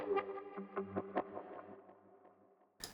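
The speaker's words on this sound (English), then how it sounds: "I have this pure crunch from Dai, the preset, and changed it quite a bit so it has some extra glitch." Distorted electric guitar through a heavily modified Dai pure crunch preset with added glitch, playing a string of loud, choppy, stuttering notes that thin out and fade, then a short burst at the end.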